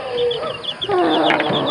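A mestizo fighting rooster gives a short run of throaty clucks and warbling calls, close and fairly loud, with no talking.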